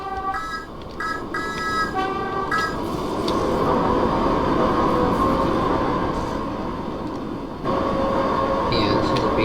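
Train horn tones on the Island Line heritage railway in Train Sim World 2, several short blasts near the start over a steady rumbling train, then a continuous running noise.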